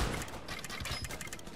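Rapid bursts of gunfire rattle on in the video game Guns Up!, a continuous loud fusillade of overlapping shots with a booming start.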